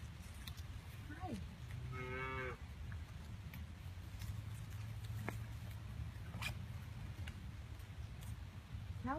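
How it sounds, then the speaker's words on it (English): Cattle, including calves, on a farm in chilly October rain: a clear moo rises near the two-second mark over steady rain hiss, with people talking softly nearby. "chilling out with the cows"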